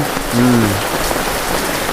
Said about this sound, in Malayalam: നല്ല രസമല്ലേ ഇങ്ങനെ മഴയത്ത് പുറത്തേക്ക് ഇറങ്ങണല്ലേ